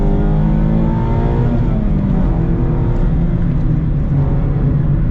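A Mazda Miata engine accelerates steadily and loudly, its rising harmonic tone climbing through the revs in one continuous pull with no talking over it.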